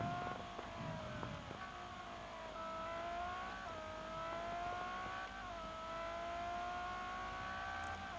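A Ferrari 599 GTO cruises slowly with light braking, its engine a low, steady hum with small rises and dips in pitch, heard from inside the car with no talk.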